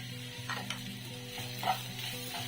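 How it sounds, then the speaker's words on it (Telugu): Dried prawns fry in a pan with turmeric and salt, a steady close sizzle running throughout with a few scraping stirs and clinks, no voices. "రొయ్యలు బాగా ఫ్రై అయ్యేంత వరకు వేయించుకోవాలి"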